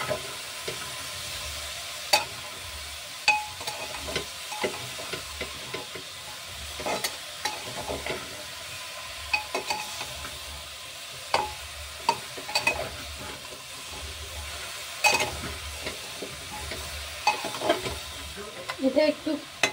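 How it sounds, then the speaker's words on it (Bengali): Vegetables fry and get stirred in a pan for chicken feet soup, a steady sizzle under repeated scraping clacks of the spoon against the pan, close and fairly loud. "ভেজিটেবলসটাকেও একটু ফ্রাই করে নেব।"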